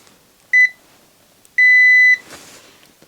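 A multimeter in continuity mode, testing a DVD player under repair, gives two sharp electronic beeps: a quick double chirp, then a longer sustained tone lasting about half a second, followed by a soft rustle.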